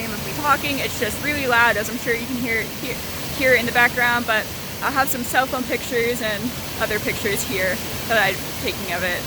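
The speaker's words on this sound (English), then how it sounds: "it is like pretty misty as a result of like this giant waterfall" A giant, misty waterfall in Oregon roars as a loud, continuous wash of noise beneath someone talking close by.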